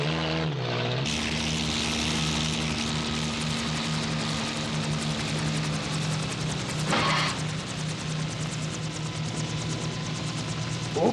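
Propeller aircraft approaching to land in a 1981 mecha anime, a steady, loud engine drone held throughout, with a brief surge of noise near the end.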